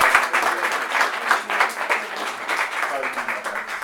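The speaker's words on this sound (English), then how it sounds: "Let's give Steve Ritz a strong round of applause." A civic event audience gives a strong round of applause, close and lively clapping that rolls in slight waves across the few seconds.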